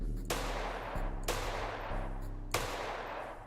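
Three sharp gunshots ring out at regular intervals in the top-down zombie shooter Field Survivor, each with a long decaying tail over a low droning game background.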